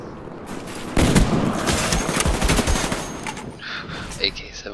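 AK-74 automatic fire in Call of Duty: Black Ops, rapid loud bursts of close gunshots in a free-for-all match, with trailing echoes and faint other game sounds.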